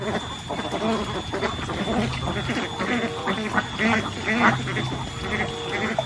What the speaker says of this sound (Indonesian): sepertinya ini bebek teman-teman